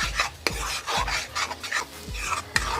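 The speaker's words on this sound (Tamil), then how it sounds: "நம்ம மசாலா பூரா நல்லா எண்ணெயில் வதங்கி எண்ணெய் பிரியுது பாருங்க." Masala cooked down in oil in a karahi for a quail egg curry, with stirring, scraping and rasping strokes against the pan and a light sizzle underneath, repeated every second or so.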